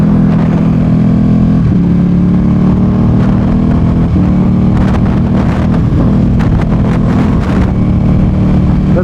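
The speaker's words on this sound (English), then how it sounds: "I don't know if you guys are hearing the pops and cracks that this thing makes." A Ducati Panigale V2 motorcycle engine drones steadily on a city ride with part-throttle downshifts, and sharp crackling pops from its exhaust come in bursts in the latter half over loud wind rush.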